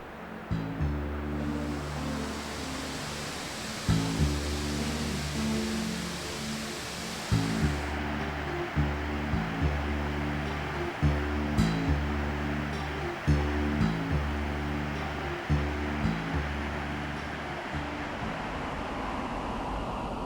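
Tad Itu waterfall in southern Laos pours with a constant, dense roar that fills the scene, while a low rhythmic pulsing repeats beneath it throughout.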